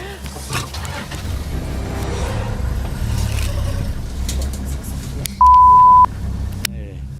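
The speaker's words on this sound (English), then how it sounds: "The ranger quickly fires up the vehicle" A safari vehicle's engine roars under loud, continuous low rumble, near and steady with commotion around it, followed by a sustained electronic beep tone and an abrupt cutoff.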